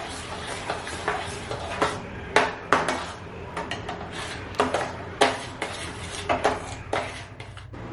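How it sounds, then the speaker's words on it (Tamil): A spoon scrapes and knocks against a pan while semolina and sugar are stirred together for kesari, irregular metallic clinks and taps over a soft continuous sizzle, close and fairly loud. "சுகர் அதோட ரவை கூட நல்லா மிக்ஸ் ஆகி நல்லா கரைஞ்சி போகிற வரைக்கும் கிண்டிட்டு"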